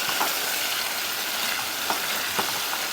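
Food frying in hot oil in a pan over high heat, a loud continuous crackling sizzle with a few brief pops and stirring sounds, no talking.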